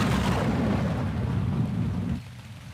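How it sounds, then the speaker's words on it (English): Steady rain pours with a deep thunder rumble beneath it in a Scratch animation, loud and continuous, then the low rumble drops away while the rain carries on. "I'm going to summon the rain cloud."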